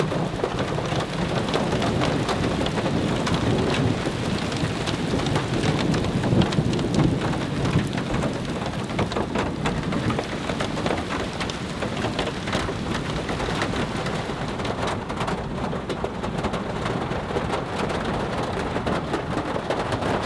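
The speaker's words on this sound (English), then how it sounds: "I just saw a flash of lightning, heard some thunder, and it is absolutely coming down right now." Heavy rain pours steadily through an early-morning winter thunderstorm, a dense continuous roar with deep rumbles of thunder rolling underneath, loud and close throughout with no voices.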